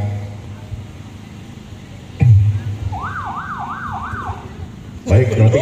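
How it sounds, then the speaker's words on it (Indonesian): Emergency vehicle sirens for fire truck, ambulance and police patrol, sounded as a short rehearsal at a district office flag ceremony: a wailing, rising-and-falling tone cycles several times mid-clip over background noise, with sharp bursts at either end. "Untuk sirenenya menyesuaikan saja untuk damkar, ambulan, dan patroli polsek."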